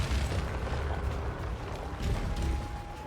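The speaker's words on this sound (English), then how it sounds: "dealing with the lightning projectiles from the shocking turrets" Shocking turrets fire lightning projectiles in the video game Path of Exile 2, with dense crackling bursts and low booms layered over a rumbling mechanical game soundscape.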